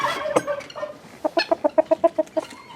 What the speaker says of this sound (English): Hello, chickens. Everybody's excited to come out today.